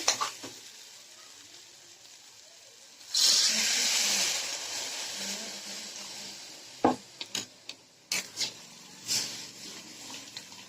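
Water is poured into a pan of pre-fried fish and vegetables, setting off a sudden loud sizzle and hiss that slowly dies down. It is followed by scattered clinks and scrapes of stirring, close up, with no talking.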